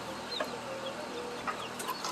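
Hens and a rooster cluck softly at feeding time in a farmyard flock, with scattered overlapping clucks and chirps over a low background hum, fairly faint and with no voices.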